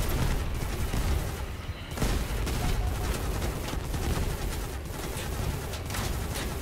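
Sustained video game gunfire from a shooter battle, a steady stream of fairly loud shots and booms with little pause, mixed with busy game noise.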